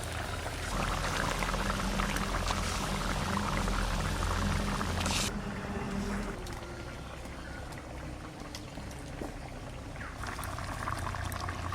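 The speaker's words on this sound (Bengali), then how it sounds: "জলটা ফুটে গেছে ভালো" Water at a boil in a cooking pot during preparation of a Bengali rohu fish head dish, a steady bubbling, roiling wash that runs continuously and fades slightly partway through.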